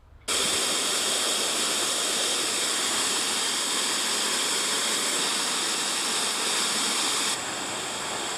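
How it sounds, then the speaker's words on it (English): Steady, roaring rush of a waterfall beside a trail near Harpers Ferry, West Virginia, loud and continuous, with no voices. "there's a very neat waterfall along that trail"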